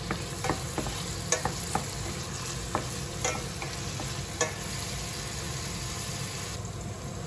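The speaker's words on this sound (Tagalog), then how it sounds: "igisa lang natin hanggang lumabas yung kanyang amoy, yung aroma ba" Aromatics sautéing in a pan for Italian pasta, a steady close sizzle with intermittent scraping and stirring clicks from a utensil, continuous over a constant background hum.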